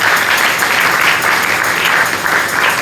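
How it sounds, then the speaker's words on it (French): Church congregation applauding during a Sunday service, steady sustained clapping from a crowd filling the room for nearly three seconds without pause. "Est-ce que tu peux acclamer?"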